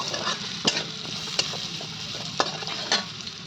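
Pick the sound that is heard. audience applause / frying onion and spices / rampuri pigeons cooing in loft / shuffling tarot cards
frying onion and spices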